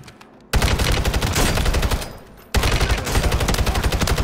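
Rapid automatic gunfire in a shooter video game comes in two loud, close bursts of fast, even shots, separated by a brief lull, with nothing else over them.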